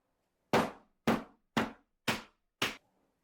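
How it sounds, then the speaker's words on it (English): Five sharp, evenly spaced whacks of a hammer striking a slab of cold, hardened taffy, each a loud crack with a short decay, about half a second apart, with no other sound around them. "Let's take a hammer."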